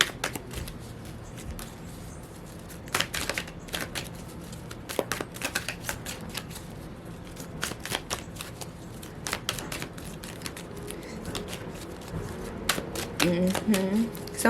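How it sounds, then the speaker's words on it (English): A deck of cards is shuffled repeatedly, crisp riffling bursts and taps coming in quick clusters, close to the listener. "I'm having to shuffle the mess out of these cards"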